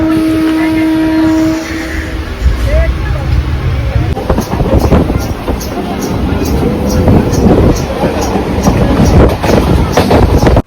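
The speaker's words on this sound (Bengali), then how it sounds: "ট্রেন ঢুকছে, চললাম।" A train pulls into a station: a loud, close rumble with rhythmic wheel clatter that builds and grows steadily over the whole stretch, after some faint tones at the start.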